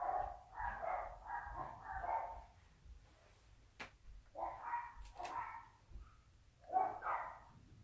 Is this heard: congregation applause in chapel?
no